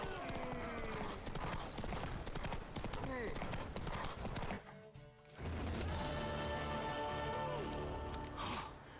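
Horse hooves clip-clop in a steady quick rhythm, close and prominent, mixed with a dense game or film soundtrack of music, breathy vocal effects and a brief pause midway.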